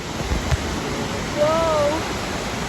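A waterfall roars as a broad, steady wash of rushing water, loud and unbroken, with a short thump near the start and a brief tonal squeak partway through.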